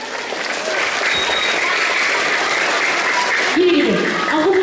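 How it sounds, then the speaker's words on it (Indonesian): An audience applauds at a talk, a dense sustained burst of clapping from a crowd filling the whole stretch, with a voice speaking over it near the end. "Tepuk tangan saya."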